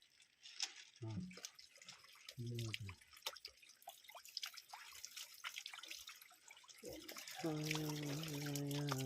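Water poured by hand for a washing ritual, splashing and dripping in short bursts while people talk and a voice sings or chants near the end.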